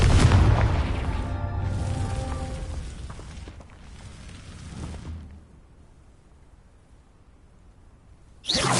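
Confringo explosive curse from a Hogwarts video game, a heavy booming blast with a ringing tail that decays over several seconds into near quiet, then another burst at the end.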